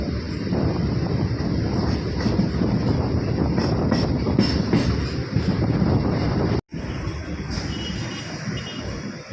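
A Haripal local train rolls along with a steady, loud rumble of wheels and carriage noise throughout, plus some wind buffeting, with one brief dropout near the end and no talk.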